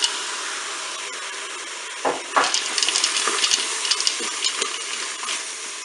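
Water is poured over penne in a Cookeo multicooker pot, starting as a hissing background before a splashing pour with irregular bursts and gurgles that continues to the end, with no voices.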